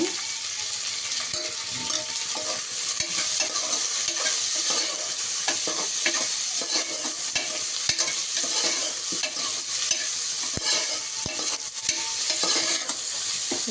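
Chopped chillies sizzle steadily in hot oil for a vegetable biryani, a close, continuous frying hiss broken by occasional scraping stirs, with no voices.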